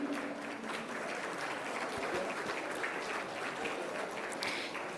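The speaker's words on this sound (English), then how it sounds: "Can we please have a round of applause for him?" An audience applauds at a ceremony celebrating the Dalai Lama's 90th birthday, a dense, fairly faint wash of clapping that holds steady for the whole stretch.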